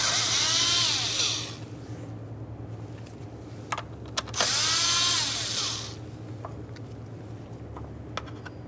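Power tool whirring in two separate bursts while removing 7mm mounting bolts from a shield on a 1998-2011 Ford Ranger 2.3L, with quieter clicks and handling noises between the bursts.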